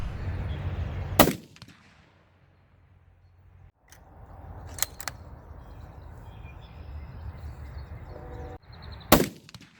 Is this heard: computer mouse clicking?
no